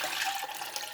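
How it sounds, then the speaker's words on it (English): A short, steady splashing trickle of water poured into a measuring cup, faint and close with no voices. "I'm going to pour them into this measuring cup."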